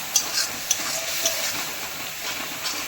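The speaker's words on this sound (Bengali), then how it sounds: "বেশ ভালো করে কষাতে হবে যতক্ষণ না ভালো করে তেলটা ছাড়ে" Ground spices and salt frying in oil for an eel fish curry, stirred until the oil separates: an even sizzling hiss close by, broken by a few sharp clicks of a spoon.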